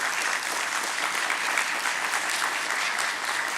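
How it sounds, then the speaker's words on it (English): Steady, dense applause from the audience at a stock exchange listing ceremony for Shyam Metallics and Energy Limited, continuous and even throughout with no speech over it. "Let's hear a nice round of applause for Shyam Metallics."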